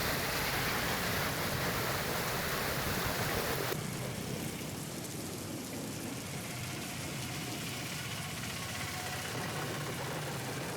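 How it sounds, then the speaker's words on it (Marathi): Heavy rain pours down in Ratnagiri, a dense, continuous hiss of falling water that stays loud and steady throughout, shifting slightly in character partway through. "तर मुसळधार पावसानं रत्नागिरीला झोडपून काढलेलं आहे।"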